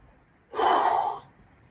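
A single deep, forceful breath during a seated exercise circuit, heard as a loud, close breathy rush lasting under a second against a quiet background.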